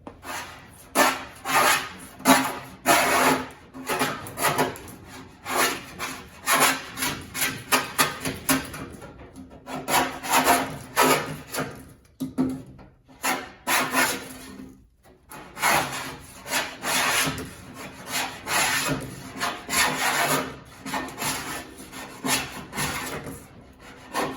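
Continuous rough scraping and rasping as old paint layers are stripped from a car body panel, a rhythmic back-and-forth scrubbing that keeps up steadily throughout with brief pauses.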